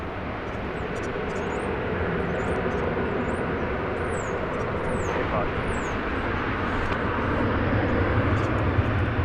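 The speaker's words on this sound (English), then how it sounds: "American Flight 1226 arriving from Miami in Florida." An American Airlines jet arriving from Miami at DFW Airport makes a loud, steady broadband roar that fills the scene from start to finish, with small birds chirping faintly above it.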